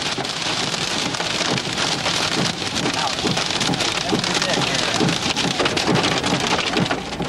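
Heavy rain pours steadily during a thunderstorm on a tornado chase, a loud dense hiss of drops drumming on surfaces throughout, with no break.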